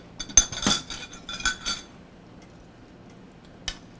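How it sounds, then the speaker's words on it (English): A spoon clinks and scrapes against a pot while broccoli, potato and meat soup is stirred, in a short cluster of metallic knocks, then a pause and one last clink, close by. "Let's mix this in."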